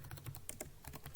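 Rapid, even computer keyboard typing as a short line of text is entered, a quick run of soft, close key taps with no talking.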